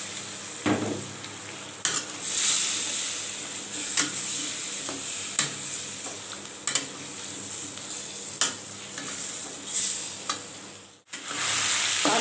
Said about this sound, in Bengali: আলুটা দিয়ে কষিয়ে নেব।